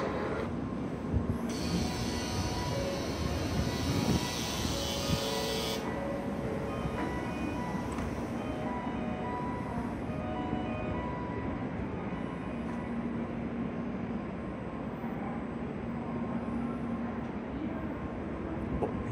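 A Shinkansen bullet train departing Okayama Station rumbles steadily with a low, heavy drone and a brief high-pitched squeal early on, loud and close throughout, with no talking.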